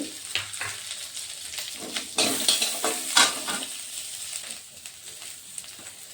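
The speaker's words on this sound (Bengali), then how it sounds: "একটু ভেজে নেব, সামান্য, বেশি লাগবে না, সামান্য ভেজে নিলেই হয়ে যাবে। দুটো শুকনো লঙ্কাও দিয়ে দিচ্ছি।" Dried red chilies fry in a small amount of oil in a pan with a moderate sizzle and intermittent stirring scrapes; the frying flares up sharply twice midway before settling back to a quieter hiss.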